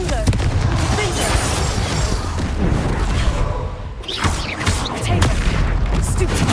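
Confringo blasting spells fired in Hogwarts Legacy, a run of booming impacts and thuds amid dense, continuous game combat noise, loud throughout with a brief dip partway before the blasts resume.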